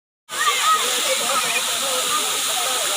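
Dudhsagar waterfalls in Goa roar in, a dense, steady rushing hiss of falling water that starts abruptly and holds evenly loud throughout.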